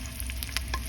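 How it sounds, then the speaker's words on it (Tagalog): Dried fish (danggit) sizzles steadily frying in a hot pan, a constant crackling hiss with a few small pops and scraping stirs. "Prito si danggit."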